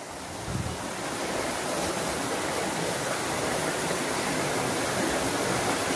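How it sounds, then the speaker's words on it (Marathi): Water rushes through a channel like a river in the village of Manor, a steady, full-band roar that holds even throughout, close and loud with no voices. "जसं नदीतनं पाणी येतंय त्याच प्रकारे पुढे कंटिन्यू होतंय।"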